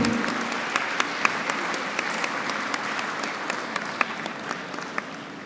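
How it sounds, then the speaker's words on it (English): Sustained applause from a large audience at a university convocation ceremony, a steady dense patter of many hands with a few sharper claps standing out, continuing evenly without speech. "Let the applause continue."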